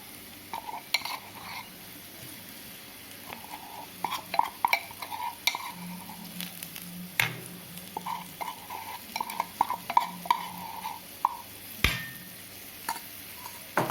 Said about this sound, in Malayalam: ഇനി ഇതിൻ്റെ പച്ചമണം പോകുന്നത് വരെ നന്നായിട്ടൊന്ന് വഴറ്റിയെടുക്കും.